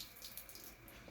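Soaking water poured off rice for a carrot milk kheer, a steady close splashing trickle of water running for the whole moment with no voices.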